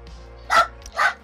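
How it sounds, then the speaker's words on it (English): Abby the dog gives two sharp, close barks about half a second apart over faint background hum. "Abby's barking."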